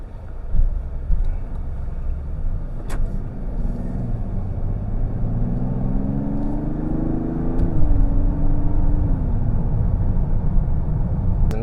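A 2024 Mazda CX-90 G50E Azami cruising along flowing roads, with a steady low engine and road rumble heard from inside the cabin and a gentle rise in engine note partway through.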